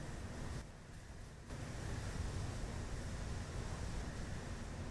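Gentle water waves ambience from the video game Factorio, a steady washing surf-like wash with a brief dip in level early on, continuous and soft with no talk.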